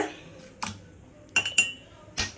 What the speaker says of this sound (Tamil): இந்த மாதிரி ஒரு கிளாஸ் பாட்டிலில் கரெக்டாக ஒரு ஒரு ஸ்பூன் வந்து எடுத்துக்கோங்க